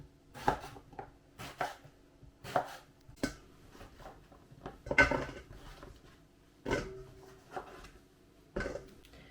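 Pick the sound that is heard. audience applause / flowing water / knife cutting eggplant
knife cutting eggplant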